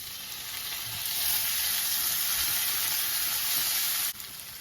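Tomatoes added to onions and cashews frying in a pan, a loud, close, steady sizzle that holds for several seconds before dropping off sharply near the end.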